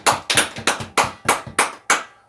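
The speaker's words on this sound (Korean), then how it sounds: "우리 하나님 영광의 박수 한번 드리겠습니다" A church congregation at Sunday morning worship gives seven sharp, evenly spaced unison claps, loud and close, with a brief fade after the last one.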